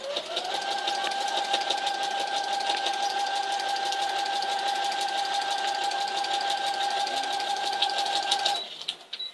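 A sewing machine stitches through a newspaper quilt with fiberfill, running as a steady, continuous mechanical whir with a fast stitching rhythm for about eight seconds before stopping abruptly.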